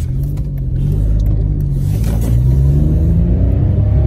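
The engine of a Citroen C1 small car runs steadily, with a loud, continuous low rumble heard from close by and no talking.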